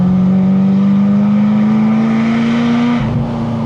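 A Ferrari 348 Spider's engine pulls hard on the move, a loud droning note climbing steadily in pitch for about three seconds before easing off as the revs drop, with no talking.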